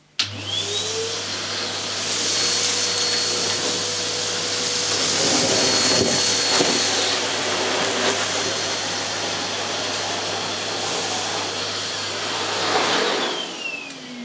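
A Numatic Harry vacuum cleaner runs on high power with its regular nozzle over a dirty carpet, a loud steady motor whine and airflow roar that holds throughout with slight shifts as the nozzle moves.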